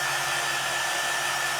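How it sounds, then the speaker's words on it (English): A blow dryer runs continuously on a hat, a loud, steady whirring hum of air and motor close by, with no talk. "Especially if you have like a blow dryer that pushes more heat."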